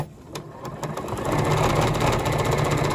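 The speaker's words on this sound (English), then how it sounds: "I'm just going to sew a bunch of these" A sewing machine stitches quilt fabric pieces, its motor starting softly and then settling into a loud, steady whirring run with a fast rhythmic needle beat.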